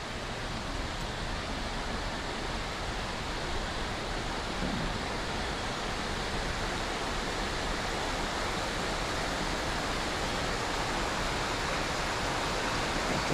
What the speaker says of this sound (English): Got this little spillway right here.